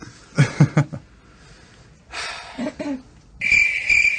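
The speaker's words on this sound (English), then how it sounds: "If you can't hear it, that was like crickets." A cricket chirping sound effect: short bursts of chirping come in clusters, ending in a steady high trill; close and fairly loud, with no talking.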